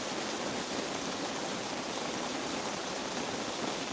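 Heavy rain pours down during a thunderstorm as a dense, steady rushing hiss that holds constant throughout, with no thunder or voices standing out.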